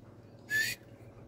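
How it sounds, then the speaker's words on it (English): A single short, clear whistle that rises slightly in pitch, lasting about a quarter second over faint low background noise. "excuse the whistle"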